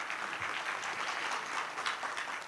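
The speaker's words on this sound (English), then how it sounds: "We need more round of applause," A conference audience at an Islamic economics and finance event applauds the panelists, a dense, even patter of clapping heard from a distance throughout the short stretch.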